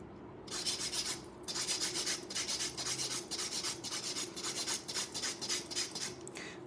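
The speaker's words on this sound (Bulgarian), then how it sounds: "тук е малко неприятна част да слушате това пилене" An acrylic nail is shaped with a 100/180 grit nail file, giving close, steady, rhythmic rasping strokes in a quick repeated pattern with short pauses between runs.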